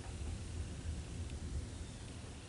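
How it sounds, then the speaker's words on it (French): Distant, low rumbling thunder as a storm approaches on a darkening day, a faint continuous roll under steady wind-like noise. "on entend le tonnerre"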